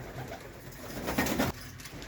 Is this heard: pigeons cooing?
yes